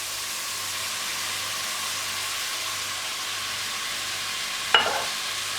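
Asparagus sautés in a pan with ham and porcini, giving a soft, even hiss of frying. One sharp clink cuts in near the end.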